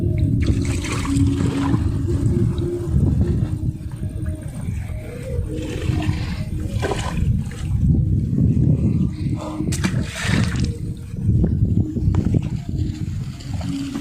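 Strong wind buffets steadily in a deep, roaring rumble, with water sloshing and splashing close by a boat on an open wetland throughout, no voices.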